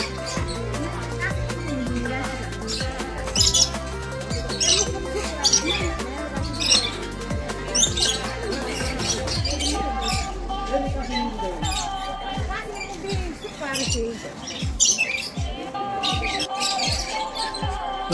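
Lovebirds and budgerigars calling in an aviary at the Assam State Zoo, a busy chorus of shrill chirps, squawks and twittering that overlaps constantly, close and loud, with a low rumbling hum underneath.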